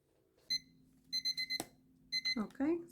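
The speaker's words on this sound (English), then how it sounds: "now that it's stopped, my timer has stopped" A kitchen timer alarm rings during an at-home eyebrow lamination, sounding as clusters of rapid, sharp electronic beeps in quick bursts over a quiet room. A voice briefly begins speaking at the end.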